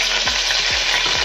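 Mustard seeds, cumin, shahi jeera and bay leaf sizzle hard in hot oil, a loud dense crackling hiss with faint clicks of popping seeds underneath.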